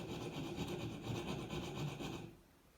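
Close, steady rasping of a file working a chased rope pattern into a knife blade during blade smithing, rapid back-and-forth strokes continuing for over two seconds before fading out, with no talking.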